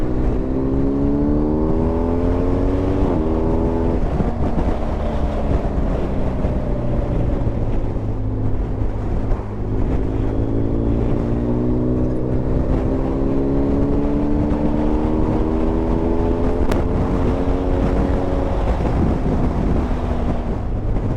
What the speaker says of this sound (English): let me just open the throttle up and then I'll get back to you.